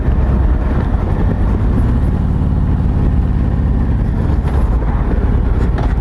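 A Harley-Davidson Tri Glide three-wheeler with its stock exhaust rumbles steadily at a low, throbbing idle, loud and close, with wind noise over the microphone.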